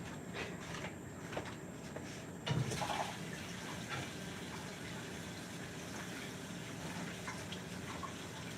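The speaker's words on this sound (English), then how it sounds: "I'll think about it while I wash this paintbrush out" Tap water runs steadily while a paintbrush is rinsed out during a painting session, giving a continuous splashing rush with a brief clunk partway through and no talking.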